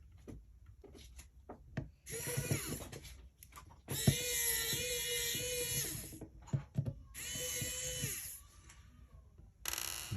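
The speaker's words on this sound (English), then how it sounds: "You might be better off using a regular screwdriver, to be honest." A small power screwdriver whirs in repeated short bursts while it backs out the screws of a cordless hair clipper's motor cover. The work is close-up, with faint clicks and handling noise between the bursts.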